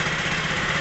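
A motorcycle engine idles steadily with a low, even rumble, close and fairly loud, with no voices.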